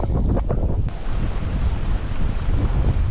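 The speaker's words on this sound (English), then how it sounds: "Oh, that wind is something." Strong wind buffets the microphone beside a pond during spring bass fishing near Fort Worth, a steady loud roar of gusts filling the whole clip with no talk.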